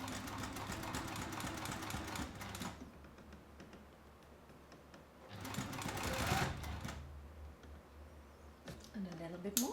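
A sewing machine stitches a Denver double zip bag in fast, close mechanical bursts, with pauses between runs and a person talking during the gaps.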